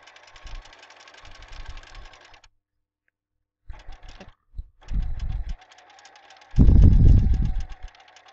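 A sewing machine stitches a plain seam in woven fabric, running in bursts: a steady mechanical hum that stops, then restarts in short spurts before a louder, heavier run near the end.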